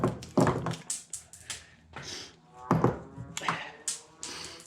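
Shotgun being unloaded by hand, a series of close mechanical clacks, thunks and taps in quick irregular bursts with brief pauses between, fairly loud and near, with no talking.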